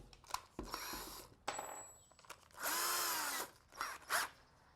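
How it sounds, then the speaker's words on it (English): Close power drill boring a pilot hole into a piece of wood, with a short burst, a longer steady whirring run that bogs slightly under load, and brief trigger pulls at the end among small handling knocks. "drill a pilot hole"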